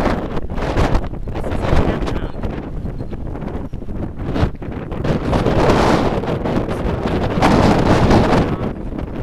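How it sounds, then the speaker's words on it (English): Strong wind roars and gusts against the microphone continuously at an Arizona RV park campground, loud and close, with rustling bursts and no speech. "golly, it's windy."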